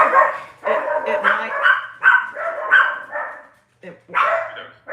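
Dogs bark and yip repeatedly in quick bursts, fairly close and loud, with brief pauses between volleys.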